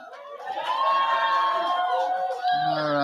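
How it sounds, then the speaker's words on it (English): Livestreamed Enactus United States 2022 National Exposition crowd cheering and shouting loudly for about three seconds, high excited voices and whoops blending together, with a sustained roar and a voice rising near the end. "everyone's supposed to cheer real loud. You clap double time"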